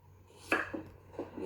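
A knife cuts burdock root on the diagonal for a soy-sauce pickle, several crisp, quiet cuts spaced apart on a cutting board, close and isolated with no talking.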